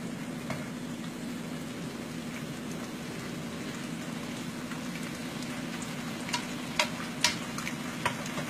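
Lo mein ingredients frying in a pan give a steady, close sizzling crackle, with a few sharp pops and utensil taps toward the end and no talking.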